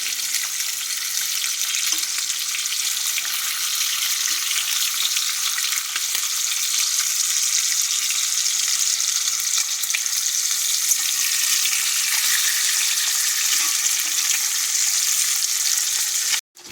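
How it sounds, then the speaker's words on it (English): Bacon sizzles loudly and steadily in a very hot cast iron skillet, a dense continuous crackle close by that holds without pause, then cuts off abruptly at the end, with no voices. "now that our bacon's been cooking a couple of minutes, our cast iron is super hot"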